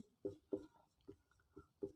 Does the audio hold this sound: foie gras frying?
no